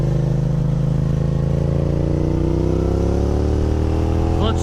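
Motorcycle engine running steadily loud and close as the clutch is let out, its pitch rising gradually under the rev, with no speech over it.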